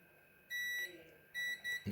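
A multimeter beeps during a continuity test between two cables on an Ibanez SR505E bass preamp, giving two shrill electronic tones, a longer one then a shorter broken one, followed by a soft low bump.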